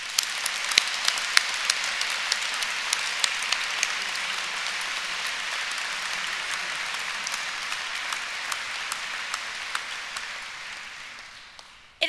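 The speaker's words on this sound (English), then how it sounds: "Please join me in a round of applause for all the staff of Edinburgh Napier University." An audience at a university graduation ceremony in a hall applauds steadily for about twelve seconds, a dense even wash of clapping that fades out at the end.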